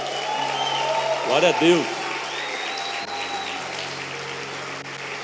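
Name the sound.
applause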